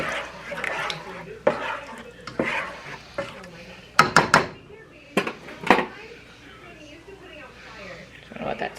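Utensil scraping and clinking in a pan while pan-fried chicken parmesan ingredients are mixed together, in irregular bursts with some sharp knocks, under a person talking.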